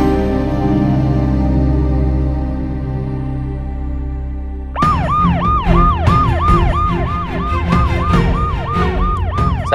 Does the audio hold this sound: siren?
yes